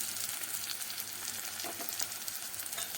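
Green chilli with ginger and garlic paste fries in a pan for palong paneer, giving a steady, close, dense sizzle that runs without a break and without any talk.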